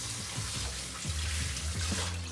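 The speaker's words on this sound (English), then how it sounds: "Drain and rinse under cold water to stop cooking and prevent sticking" Cold tap water runs steadily over noodles in a sink as they are rinsed, a continuous splashing rush with low gurgling pulses beneath it.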